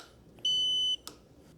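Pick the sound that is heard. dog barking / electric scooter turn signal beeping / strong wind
electric scooter turn signal beeping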